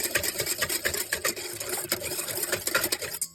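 A stand mixer whirs steadily while mixing dough ingredients with salt, a continuous close motor hum with a rhythmic rattling texture throughout.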